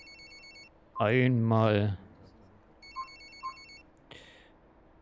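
A mobile phone ringtone chirps twice in quick repeating bursts on a city bus in the driving game The Bus, with a short spoken word between the rings and faint chimes after.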